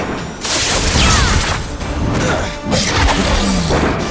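A super kick lands in an animated football show with a loud, close crash and thud, followed by booming impact noise and a second heavy hit.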